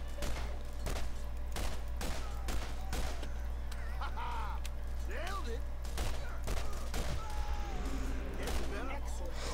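Gunfire rings out in Borderlands, a shooter video game: a rapid series of sharp shots, mostly evenly spaced, over a steady low hum. A voice speaks in between the shots.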